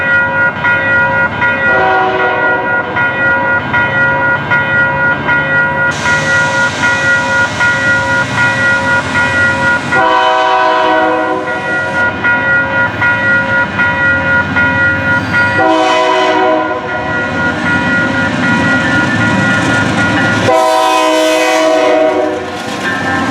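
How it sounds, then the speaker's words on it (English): A CN freight train led by locomotive 3359 rolls past in New Westminster, its multi-chime horn sounding in several long, loud blasts over the steady rumble of wheels and cars, close to the track. "CN 3359 leading train"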